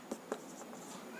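Pen strokes on paper during a Class 10 maths lesson, faint and close, with a few short scratchy taps spaced across about a second and no talk.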